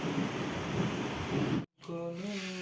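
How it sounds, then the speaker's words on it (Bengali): A dense, rumbling roar of thunder with rain-like noise fills the first moments, then cuts off abruptly before a brief tonal sound. "প্রচণ্ড পরিমাণে মেঘ ডাকছে"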